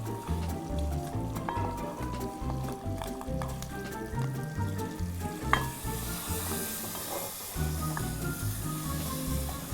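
Paprika frying in hot oil for tuna escabeche gives a steady, close sizzle with crackles and a stirring scrape, loud and continuous with no talk over it.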